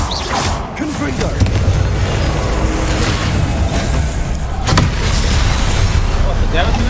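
Repeated fiery spell blasts from Hogwarts Legacy gameplay, booming and rumbling in a dense, loud wash with a sharper burst near the end, while a voice talks over it.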